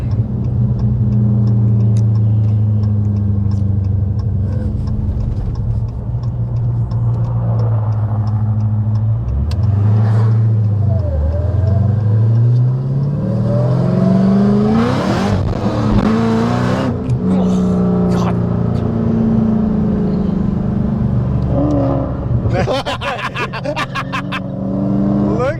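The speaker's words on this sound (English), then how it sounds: "You know we have to have those crispy rev matches." A 1,000 hp Dodge Hellcat with a manual six-speed revs hard and loud, its engine rising and falling through sharp rev-matched blips and sweeps, with people talking over the steady roar.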